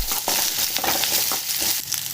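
Cinnamon, green chilli, onion and ginger fry in a pan for a vegetable kurma, a continuous close crackling sizzle with scraping stirring strokes recurring throughout.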